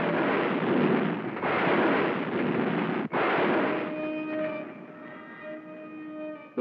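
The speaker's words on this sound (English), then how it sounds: "Those bombs were set by Flugel" Cartoon bombs exploding in a long, heavy, roaring blast that rumbles for several seconds, with one sharp break midway, then fades into a lingering tonal hum.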